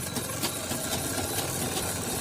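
Sewing machine running a half-inch seam on a katori blouse lining, a continuous close mechanical whir with steady rapid stitching rhythm.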